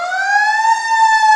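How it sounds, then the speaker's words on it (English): A fire engine siren in a big city street, loud and close, holding a steady rising wail that fills the whole moment with no voices over it. "we got a fire engine coming"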